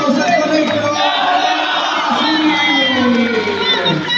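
School crowd at a handball awards ceremony roaring and cheering, a loud, sustained mass of young voices shouting and whooping together without a break.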